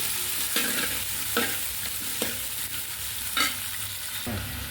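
Sliced capsicum and onion go into a hot pan for a masala curry and are stirred, a steady close sizzle marked by regular spatula scrapes about once a second, with no voices.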